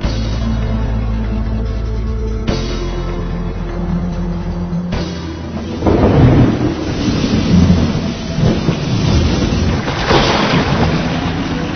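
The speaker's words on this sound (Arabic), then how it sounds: "في عاصفة كبيرة مخوفانا من كل اتجاه" Thunderstorm at sea in an animated series, with rumbling thunder and heavy rain in a dense, loud wash that swells and crashes in repeated bursts through the scene.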